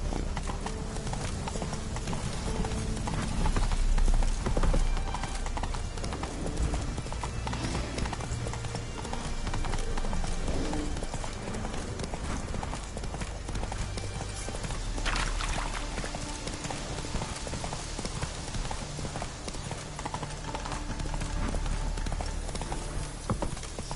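Roach the horse galloping in The Witcher 3, a fast steady clip-clop of hooves running continuously over ambient game sound.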